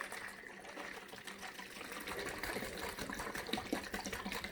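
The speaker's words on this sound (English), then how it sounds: "Now you just put the lid back on it, just like that, and then shake it really well." A lidded bottle of homemade hand sanitizer is shaken hard, giving a steady, close sloshing and rattling wash of liquid that runs without a break.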